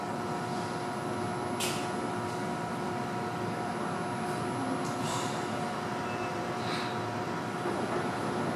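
A Nishitetsu local train arrives at Takamiya Station, a steady rolling rumble and hum filling the platform with a few sharp squeals and clanks, no talking.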